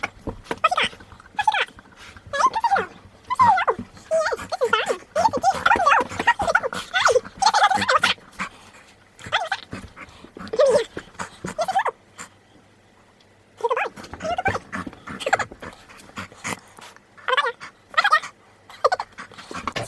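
A dog whines, yelps and barks in excited bursts while begging for a ball to be thrown indoors in a small room, fairly close and loud, with a brief quiet stretch midway.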